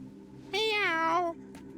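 A cartoonish cat meows once in the King's Quest video game, a drawn-out, rising-then-falling meow that stands out clearly over a low, steady background hum.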